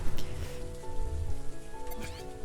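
A rain weather effect from the indie video game Kingdom's Edge plays as a dense hiss of falling drops layered with low droning game music, fairly quiet and continuous.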